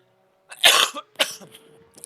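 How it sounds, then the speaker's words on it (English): A close, loud cough burst followed by a second shorter cough and a bit of throat clearing, with no speech. "I guess just a little bit of a cough."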